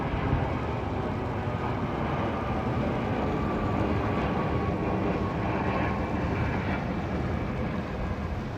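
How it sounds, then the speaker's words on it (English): Airplane flying overhead near Huntleys Point in Sydney, a steady broad roar that holds loud and constant throughout with some wind noise, no voices. "Airplane, people. Airplane on my scope."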